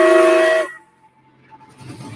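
A video game steam locomotive sounds a loud, steady whistle that cuts off sharply after about half a second, leaving a quiet lingering tone and faint rumble.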